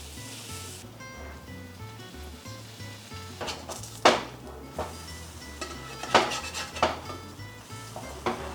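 Flamin' Hot cornbread batter cooks in an oiled pan amid clattering cookware: quiet sizzling runs under several sharp metallic clanks and knocks of utensils and pans, spaced irregularly across the stretch.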